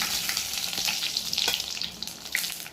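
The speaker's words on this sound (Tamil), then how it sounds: "வரமிளகாய் நல்லா வதங்கட்டும்." Dried red chilies fry in hot oil for a chicken gravy, giving a steady crackling sizzle with occasional brighter pops and a faint stir, close and continuous with no talking.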